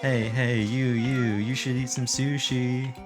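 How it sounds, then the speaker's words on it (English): A drawn-out, wavering meow-like cry rises and falls over about three seconds, loud and close, with a voice speaking over its later part. "No way, that was a cat."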